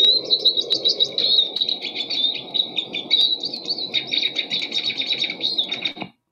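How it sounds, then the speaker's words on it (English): Red kite song, a quiet jingling twitter like a goldfinch's, runs as a continuous high, busy chatter for about six seconds over a low background rumble, then stops abruptly. "Now the song, a bit of a jingling twitter, a bit like the goldfinch."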